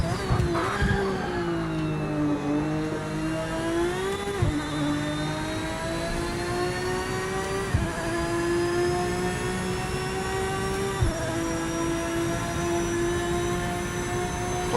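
Corvette race car engine in the Project Motor Racing video game, a loud steady high-revving drone with harmonics that dip and climb across gear shifts, continuous and close throughout with no talk.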